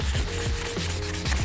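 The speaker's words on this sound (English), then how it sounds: "every little spot gets sanded perfectly smooth" Dried body filler on Audi R8 body panels being sanded by hand, a steady close rasping rub with rhythmic back-and-forth strokes and no voices.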